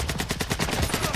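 Rapid automatic gunfire in a first-person shooter video game: dense, evenly spaced shots rattle loudly and continuously through the whole brief moment, close up.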